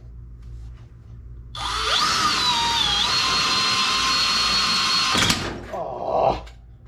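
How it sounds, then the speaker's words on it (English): A Harbor Freight Hercules half-inch hammer drill whines loudly and steadily for about three and a half seconds while it bores through material, then stops abruptly with a snap and a clatter. "it's time to see what the new Harbor Freight 1/2-inch Hercules hammer drill can do"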